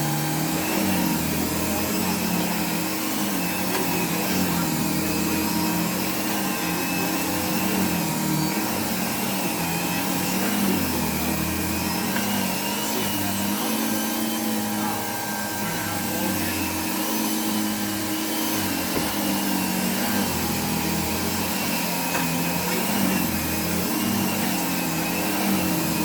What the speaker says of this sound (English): this is the Hoover Dimension with the Eureka Express nozzle